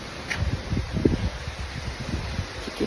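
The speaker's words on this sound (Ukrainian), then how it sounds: "Ну, а вітер хай Бог милує, дерева мотає" Gusty wind rushes through trees, leaves rustling and branches tossing in uneven bursts, with low buffeting rumble against the microphone throughout.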